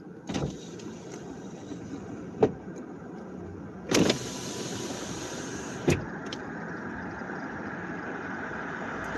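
Power windows in a car whir down as the car is aired out, with a few sharp clunks and thumps over a steady low cabin rumble, then a rise in outside air noise.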